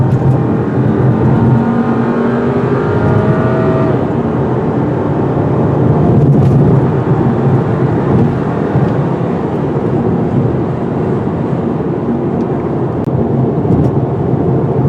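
A 2016 VW Golf TSI SEL turbocharged hatchback accelerates to pass traffic, its engine a steady, loud rumbling drone under road and wind noise heard from inside the cabin, with no voices.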